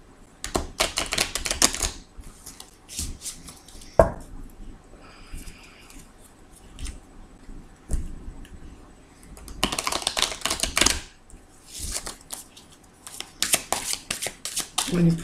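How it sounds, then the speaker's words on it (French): Tarot cards are shuffled by hand in repeated bursts of quick riffling and slapping, close and crisp, with gaps between bursts where a person talks. "Alors, je vais bien les mélanger"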